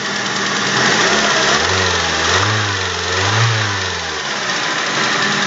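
An old engine that has not run in a long time starts and is revved with the accelerator, a loud close mechanical drone rising and falling in pitch through a few throttle blips, alone without talk.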